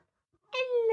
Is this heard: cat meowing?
yes